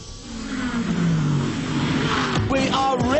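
Prototype and GT race cars roar past one after another at the 12 Hours of Sebring 2013 endurance race, engines rising and falling in pitch as they sweep by close and loud.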